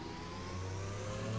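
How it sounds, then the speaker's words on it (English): A race car engine in the DRM Revival mod for the driving game Assetto Corsa revs steadily higher over a little over a second, a continuous mid-pitched engine note with no talk over it. "engine sounds are my least favorite thing with this mod"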